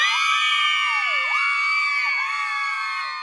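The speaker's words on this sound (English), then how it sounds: "There's a bit of a cheer from the crowd for 100 episodes." A canned crowd-cheer sound effect plays on a podcast, a bright, loud burst of many high voices whooping and shouting together, sustained for a few seconds and slowly tapering.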